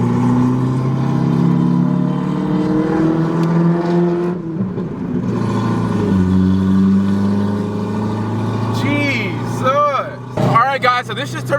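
A ZR1 Corvette engine idles with a hard, choppy lope, its deep rumble running continuously and loud, with sharp revs rising and falling near the end.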